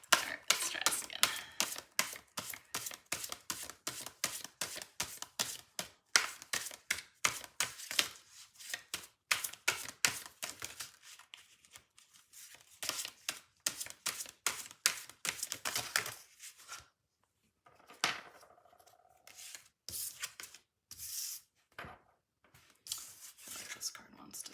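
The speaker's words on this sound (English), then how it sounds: "Deck is kind of hard to shuffle." A deck of tarot cards being shuffled, a dense run of quick crisp riffling flicks for about sixteen seconds, then a pause and sparser card snaps and slides, close and fairly quiet.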